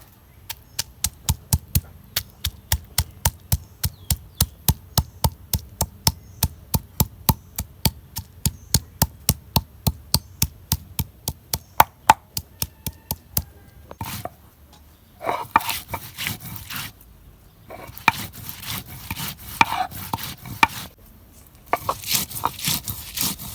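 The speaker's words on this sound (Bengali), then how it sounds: "এখন আমি শিলপাটার মধ্যে আদা রসুন পেঁয়াজ ময় মশলা আমি বাইডা নিব শিলপাটার মধ্যে" Ginger, garlic, onion and spices crushed on a traditional flat grinding stone, a long run of steady rhythmic knocks and scrapes, close and fairly loud, turning to rougher, irregular grinding scrapes with brief pauses near the end.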